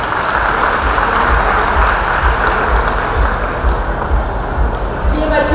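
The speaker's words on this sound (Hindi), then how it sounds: "आप इनका भी ताली बजा के स्वागत करें" At a mega job fair, the crowd gives loud, dense clapping to welcome a new IT company employee, a continuous close roar of hands that begins to thin near the end.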